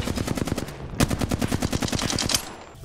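Rapid automatic gunfire from an enemy shooting through smoke in a ranked online shooter match, loud sustained bursts of closely spaced shots with a brief pause before a second long volley.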